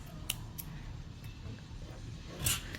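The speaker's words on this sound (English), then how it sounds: "you're going to cut your yarn" Scissors snipping crochet yarn: a few faint, sharp clicks close by at a quiet table, ending in a slightly fuller snip, with no voices.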